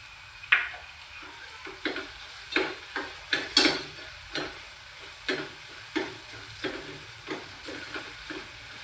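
Ginger-garlic paste frying in a pan for a spicy vegetarian mutton-style dish, with a soft, steady sizzle broken by a regular series of light scraping stir strokes and clicks, fairly close but quiet.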